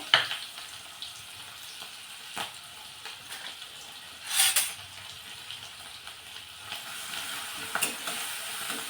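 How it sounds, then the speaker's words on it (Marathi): Crushed green chili paste frying in hot oil for radish bhaji, a soft sizzle broken by occasional stirring scrapes and a sudden louder hissing burst midway. "लगेचच आपण या तेलामध्ये हा वाटलेला मिरचीचा ठेचा टाकून घेऊ"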